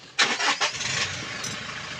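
A 2024 Toyota Land Cruiser, which has a power steering fault, cranks over in a short burst of starter bursts, then settles into a steady, even idle, close by with no talking.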